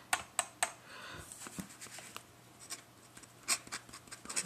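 Dip pen scratching ink onto paper, a quiet close series of brief scratchy strokes and taps in irregular bursts with short pauses between.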